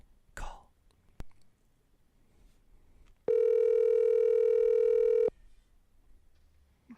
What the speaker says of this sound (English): I'm going to call her and see if I can get her on the phone.